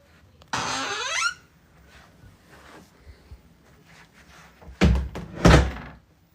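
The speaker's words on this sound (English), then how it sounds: "The humidity has all the doors in the house sticking" A house door swollen and sticking from humidity is shoved shut, with a heavy scraping thud near the start, faint shuffling in between, then two more solid knocks and thumps close by toward the end.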